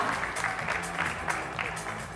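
An audience at a film success meet for Chatha Pacha claps steadily to welcome a director onto the stage, a dense, moderately loud patter of hands with faint voices mixed in.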